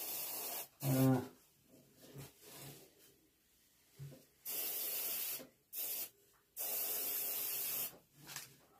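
An airbrush sprays paint onto a carved wood duck in short bursts of close hissing, with several longer sustained sprays separated by quiet pauses.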